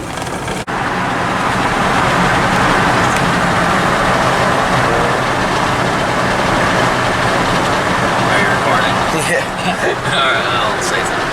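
A 1970 Cadillac floats along the road with steady engine and road rumble, loose exhaust clunking against the axle over bumps, continuous and fairly loud throughout.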